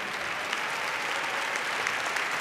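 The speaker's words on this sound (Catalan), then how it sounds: "Vinga, més aplaudiments, si us plau." Audience applause fills a graduation ceremony hall, a dense, steady wash of clapping from many hands that runs evenly throughout without voices on top.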